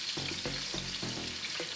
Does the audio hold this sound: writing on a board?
no